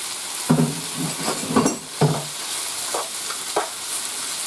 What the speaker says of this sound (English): I'm going to add my onions back in. The onions and the garlic.